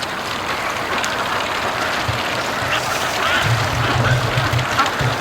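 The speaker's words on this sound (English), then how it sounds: "Look at that. There's 2 ducks." Muscovy ducks quack in short bursts on a free-range farm, the calls close and fairly loud over steady outdoor background noise, with no one talking.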